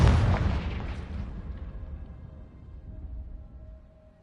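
A Confringo blasting spell detonates in Hogwarts Legacy with a loud, close boom that rolls off into a fading rumble over several seconds, no voices over it.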